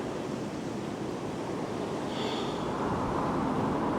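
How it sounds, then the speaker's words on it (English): River water flows steadily near a canal in the Hebden Bridge countryside, a faint, continuous rushing wash heard alone with some wind across the microphone. "Must be the river or something."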